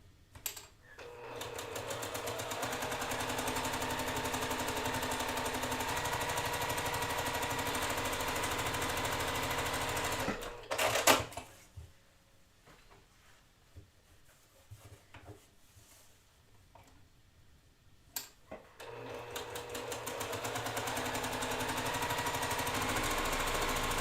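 A sewing machine stitches quilt pieces for a block-of-the-month quilt along a marked line. It runs in a loud, steady mechanical whir for about ten seconds, stops for a quiet pause, then starts up again.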